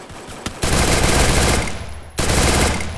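Rapid automatic gunfire from the battle-royale game Free Fire, loud and close, in two sustained bursts split by a brief gap, with a sharp single shot just before the first burst.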